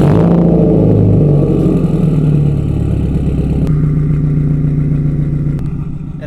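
An E85-fuelled Subaru STI hatchback engine holds a loud, steady rev with a deep, throaty drone that eases slightly toward the end, heard close up with no talking over it.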